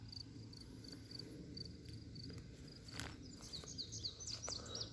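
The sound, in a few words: crickets chirping in nature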